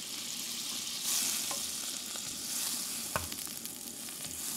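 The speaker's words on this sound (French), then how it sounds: "dans mon wok, là, je vais faire revenir les carottes. On met une noisette de beurre là-dedans." Carrots sauté in butter in a wok with a soft, steady sizzle and frying crackle, close and quiet, with a few light clicks of stirring.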